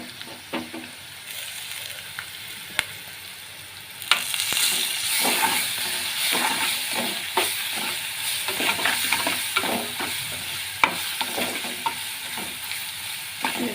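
Chilli masala with garlic and green chillies sizzles and spits in a hot pan while a utensil scrapes and stirs it in steady repeated strokes, getting louder partway through.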